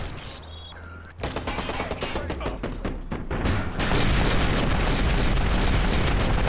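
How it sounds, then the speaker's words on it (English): Rapid gunfire in Watch Dogs opens with a few sharp shots, then swells into a loud, dense barrage of rapid rounds blending into a continuous roar of fire and blasts. "It's like rapid fire."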